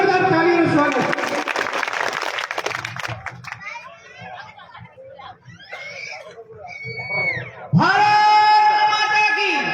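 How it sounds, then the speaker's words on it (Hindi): A crowd at a devotional bhajan evening claps loudly to welcome a minister, a dense burst of applause for the first few seconds under an amplified voice, then giving way to talk and musical tones. "मंत्री जी का स्वागत करें, जोरदार ताली और स्वागत"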